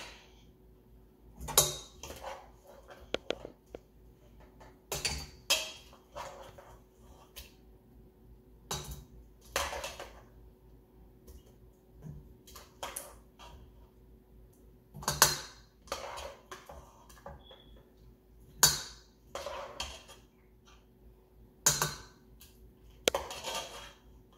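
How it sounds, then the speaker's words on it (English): Cooked yam being scooped into a KitchenAid stand mixer bowl, with sharp intermittent clinks and scrapes of a spoon against the bowl spaced a few seconds apart over a quiet kitchen background. "I cooked yam, so I'm going to scoop it into the bowl"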